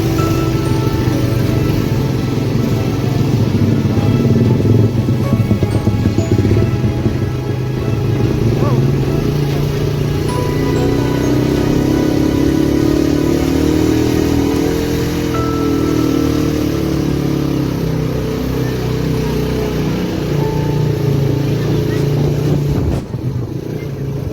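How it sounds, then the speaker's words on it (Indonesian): Motorcycle taxi (ojek) climbing a steep, extreme road in the Nepal van Java hill village, its engine droning loud and continuous close by for the whole stretch with wind rumble and occasional voices underneath. "untuk mempersingkat perjalanan menuju ke atas, kita akan naik ojek"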